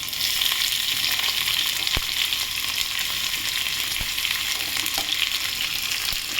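Chopped onion fries in a pan with a loud, even sizzle that stays constant, broken by a few sharp clicks of stirring, and no voices.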